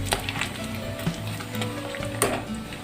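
Half a kilo of pork fries in mustard oil in a pan, giving off a soft, quiet sizzle and crackle with a few faint stirring noises, while a voice speaks over it.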